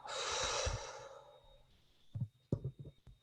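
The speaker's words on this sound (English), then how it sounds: "So breathe in Twice, breathe out." Breathing exercise: a long, loud airy breath drawn in, followed by a quieter exhale and several short close breathy puffs, no talking.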